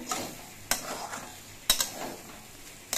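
A spatula stirs banana stem frying in a pan: a soft frying hiss with a few sharp scraping clicks against the metal, no talk.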